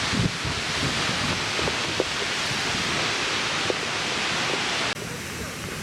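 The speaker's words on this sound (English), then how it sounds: "it is so unbelievably windy" Strong wind in Iceland roars and buffets across the microphone in a constant broadband rush, with occasional gust thumps and a brief dip near the end.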